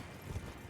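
A horse galloping in the Elden Ring video game, a steady muffled run of hoofbeats under a dense game soundscape, with no talk over it.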